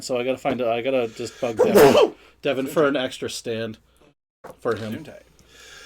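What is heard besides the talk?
two sneezes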